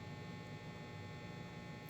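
A steady electric fan hums in a hot shop, a constant close drone that stays level and unchanging.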